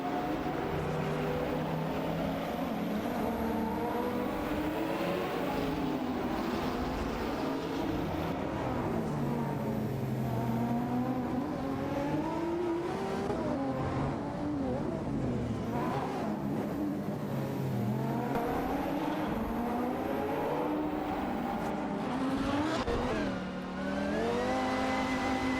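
AI race cars in a racing simulation drone and rev continuously as they battle for position and overtake, engine notes rising and falling in overlapping layers at steady loudness, with no talking.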